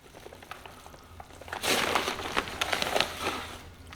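Plaster of Paris from a 25-pound bag shoveled a little at a time into water, a burst of gritty crunching and scraping scoops starting partway in, close and moderately loud, with no talk.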